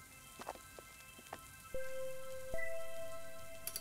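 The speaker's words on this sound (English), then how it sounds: "It's raining." Rain falls in the video game Garden Paw as soft patter with scattered droplet taps, joined by sustained chime-like game tones and quiet effects.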